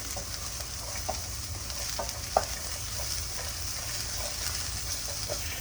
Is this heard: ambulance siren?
no